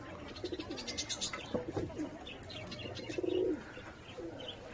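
Two white pet pigeons coo outdoors in the morning, soft repeated throaty coos mixed with a few chirps at close range, steady low background hiss throughout.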